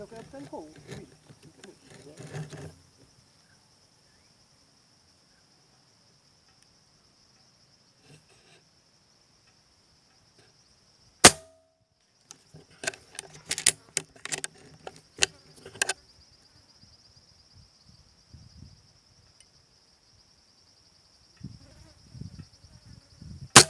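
Several sharp, loud cracks of gunshots fired at a target in a cluster near the middle, outdoors, with a steady insect drone and occasional talk before and after.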